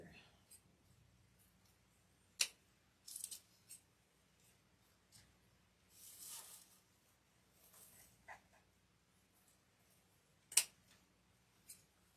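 Scissors snipping deco mesh for a Valentine's evergreen wreath, a few scattered quiet cuts and rustles in a calm room with faint background noise.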